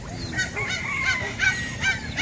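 Ducks honk and quack repeatedly in a noisy, steady chorus, several birds calling close by over a low background rumble, at an animal market.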